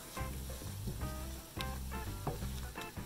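Onions, mushrooms and spinach sizzle steadily in a pan while a utensil stirs them, with repeated scraping clinks over the constant frying hiss, heard close and fairly quiet.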